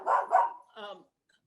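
A rescue dog barks three times in quick succession, close and loud, the third bark softer, followed by silence.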